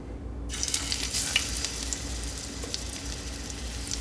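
Pieces of cod frying in olive oil in a pan, for fish tacos: a steady, even sizzle with crackling spits that runs throughout at moderate loudness, with no talking.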